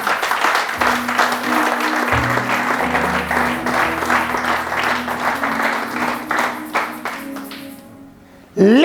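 A church congregation applauds and acclaims the Lord in sustained, loud clapping that fills the room for several seconds, with music tones beneath, before a sudden swell at the end.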